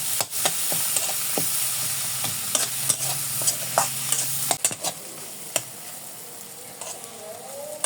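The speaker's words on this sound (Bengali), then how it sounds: "এখানে দিয়ে দেবো মরিচের গুঁড়া আর একটু হলুদের দেবে সামান্য ভালো ভেজে নেব" Pointed gourd with egg, chili powder and turmeric frying in a pan, a steady hiss of oil punctuated by sharp spatula clicks and scrapes as it is stirred, close and moderately loud.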